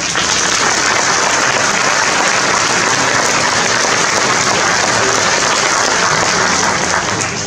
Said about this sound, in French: Venez, venez, et on peut les applaudir.